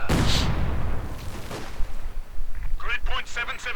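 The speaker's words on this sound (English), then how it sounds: "120mm mortar fires away" A 120mm mortar fires in the Company of Heroes 2 real-time strategy game: one loud, heavy launch boom at the start, followed by fainter battle noise while a commentator talks.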